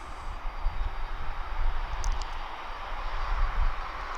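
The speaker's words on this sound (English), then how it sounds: "Cargo jet" A cargo jet at East Midlands Airport roars steadily, with a loud sustained engine rumble and broad whine that holds for the whole stretch.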